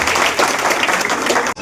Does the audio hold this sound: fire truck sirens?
no